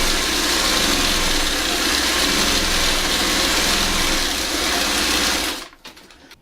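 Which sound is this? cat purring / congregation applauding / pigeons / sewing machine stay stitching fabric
sewing machine stay stitching fabric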